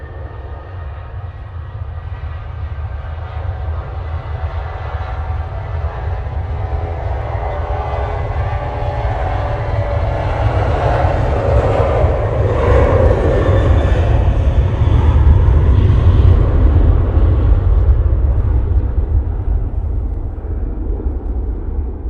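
A Ryanair airliner bound for Bologna takes off from Manchester Airport on a windy day, its engine roar building from moderate to a loud peak midway, then slowly easing off, with no talking.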